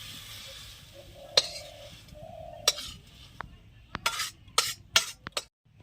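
Cooked teora greens with eggplant and potato are scraped from a pan onto a plate in a village kitchen. A spoon sharply clinks and knocks against metal in scattered bursts, with a faint sizzle between them.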